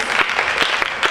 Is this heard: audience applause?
yes